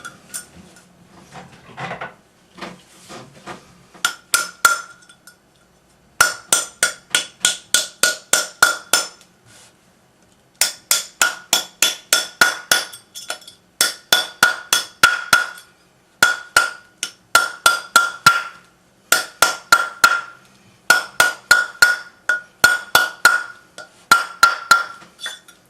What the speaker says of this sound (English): onto the bracelet mandrel and use the rawhide hammer